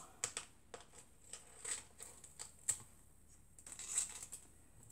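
Scissors snipping through a sheet of aluminium foil while cutting out craft charms, giving a quiet series of crisp crinkly clicks and rustles spread irregularly across the moment, with no voices.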